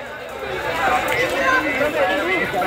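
A bustling Jhiri Mela fair crowd fills the air with overlapping chatter and hubbub. Many voices mingle close by in a loud, continuous din with no single speaker standing out.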